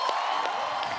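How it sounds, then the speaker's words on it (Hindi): A comedy talk show audience cheers and whoops to welcome a film director and an actor, a brief, loud burst of crowd noise that blends into a continuous roar. "आप सबकी जोरदार तालियों के बीच मैं स्वागत करना चाहूंगा"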